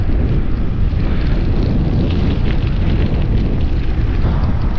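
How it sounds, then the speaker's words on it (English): A strong headwind batters the microphone while cycling downhill on a bikepacking trip, a loud, continuous low buffeting roar with no voices. "a hell of a headwind, pedaling the whole way"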